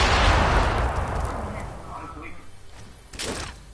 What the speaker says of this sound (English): Throwing bombs in.